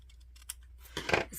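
Scissors snip through paper while a collage piece, a rock shape beside a house, is cut out for a small art journal page; a couple of short close cuts, quiet with no talking.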